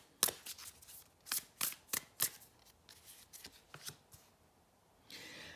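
Tarot cards being laid out and handled give a series of sharp, close snaps and flicks in an irregular rhythm, followed by a soft rustle.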